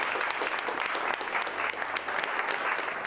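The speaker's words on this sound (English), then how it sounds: "So I think you guys should give up a little round of applause for yourselves." Film crew of Avatar (2009) applauding themselves at a gathering, a sustained, even wash of many hands clapping throughout, fairly distant and moderately quiet.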